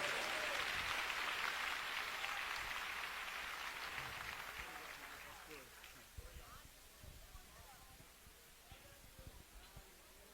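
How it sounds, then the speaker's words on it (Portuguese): A Brazilian church congregation applauds loudly at first, a broad, hissing wash of clapping that fades over several seconds into a quieter room with scattered sounds and voices. "vamos recebê-lo com aplauso"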